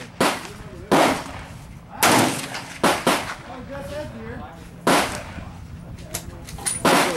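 A Hatsan 135 .25 caliber air rifle firing several sharp, loud cracks at irregular intervals outdoors at a range. People talk between and over the shots.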